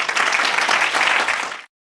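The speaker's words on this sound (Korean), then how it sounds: "박수로 환영하기 바랍니다." An audience at a church youth service claps to welcome a presenter, a short, lively round of applause that cuts off abruptly.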